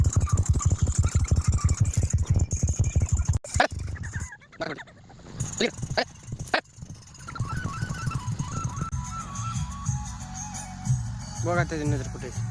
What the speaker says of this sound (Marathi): ट्रॅक्टरने पेरणी चालू आहे.